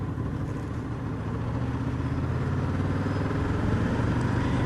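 A Honda Interceptor motorcycle engine pulls steadily from a higher gear, a continuous loud, low rumbling drone with wind rush and no break.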